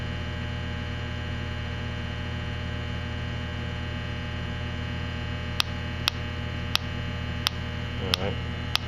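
An H10 HVAC refrigerant leak detector emits a handful of sharp, evenly spaced clicks that gradually come faster, sitting over a constant loud electrical hum.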